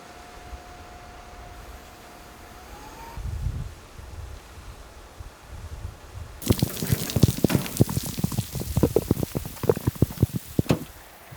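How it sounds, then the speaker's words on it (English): Quiet patter at first, then typhoon rain on a Tokyo island suddenly intensifies into a dense, loud crackle of drops hitting surfaces close by. "the rain is really picking up"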